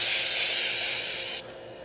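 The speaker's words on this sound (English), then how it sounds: "And all I'm doing is spraying the part off." A steady hissing spray of cleaner runs close up over a part with resin buildup, then softens abruptly near the end as the stream drops off.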